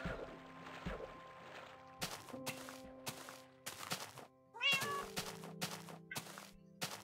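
A cat meows in the video game Minecraft, a few short distinct mews rising over soft background game music and chimes, fairly faint with no talk.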